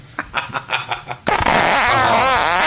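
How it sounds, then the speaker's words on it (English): A fart sound effect blares loud and close in one sustained, wavering burst, following a few short spoken syllables. "Can I hear that fart again?"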